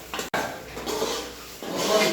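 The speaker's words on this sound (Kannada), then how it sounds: "ಈಗ ಇದ್ರಕ್ಕೆ ಒಗ್ಗರಣೆಗೆ ಮಿಕ್ಸ್ ಮಾಡ್ತಿದ್ದಾರೆ ನೋಡಿ" Chicken and chilli powder being stirred into a tempering in a cooking pot: close scraping and clattering of a spoon against metal, with a short wet shuffle of the mixture.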